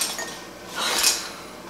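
A spoon adds sugar into glass mason jars, giving a couple of close, soft clinks and light scraping against the glass, brief and alone.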